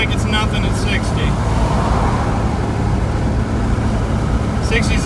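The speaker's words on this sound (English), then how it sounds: "So a little wind noise, as you guys can see, but cruising along like it's nothing at 60." Wind noise inside a turbocharged 3.7 V6 Mustang cruising at 60 mph: a steady broadband rush and low road rumble fill the cabin throughout, with someone talking over it at the start and end.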